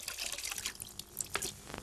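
Water drips and trickles from a beret that has soaked in hot water: scattered close drops and splashes with a light running trickle, no talking.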